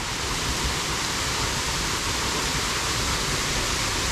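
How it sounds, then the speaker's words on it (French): A small waterfall about 20 metres high pours in a steady, dense hiss of falling water, constant and fairly close with no voices over it. "je vous explique pas ce qu'on fait pour vous montrer la petite cascade"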